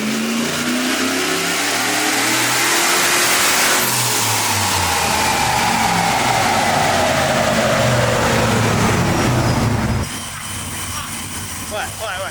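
A supercharged LS engine in a Wrangler revs hard on a dyno, climbing steadily in pitch for several seconds, then abruptly drops off, leaving a lower, quieter running note.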